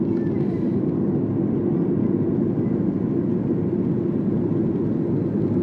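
Steady, loud low roar of a Singapore Airlines airliner cabin in cruise flight over the Malay Peninsula, a continuous broadband hum with no talk.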